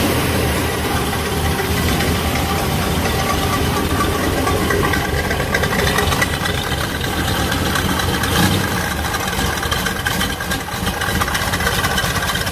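A 1967 Corvette engine idles steadily at about 800 RPM, a loud continuous rumble with a fine, even ticking texture and no pauses.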